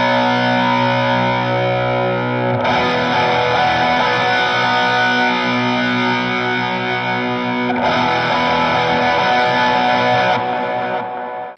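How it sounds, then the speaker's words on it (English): Heavily distorted electric guitar, run through a Line 6 modeler, strums big sustained power chords for a song's bridge, each chord ringing for several seconds with a few chord changes, loud and dense with no voices. "we're going to be mainly playing big power chords here."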